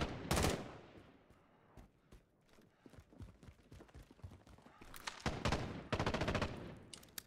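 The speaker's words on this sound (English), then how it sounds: "Oh, they're shooting at the same team." Bursts of automatic gunfire in a battle royale match, sharp rapid volleys at the start and again near the end, with quieter scattered shots between and little talk.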